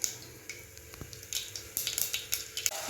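Spices for a pea and potato curry hit hot oil in a home kitchen tempering, making a soft sizzle with scattered sharp crackles and spits that build toward the end, heard alone without talk.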